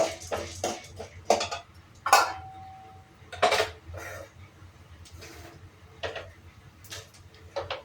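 White urad dal being roasted in a pan, heard as scattered close clinks and taps of a utensil against metal, irregular and sparse, with quiet gaps between.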